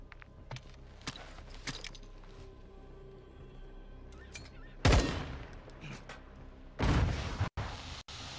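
Gunfire in Call of Duty Modern Warfare II: scattered single shots early, then two loud, dense bursts of automatic fire and booms toward the end, with faint clicks and rustles between.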